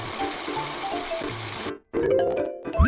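Water runs in a children's animal hospital game to rinse a burned sloth, a steady gushing stream that stops abruptly, followed by brief chimes and game effects.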